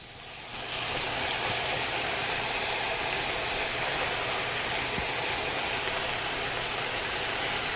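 Food sizzling in a hot pan while cooking, a loud steady hiss that starts after a brief quieter moment and holds constant throughout, close and alone with no talking.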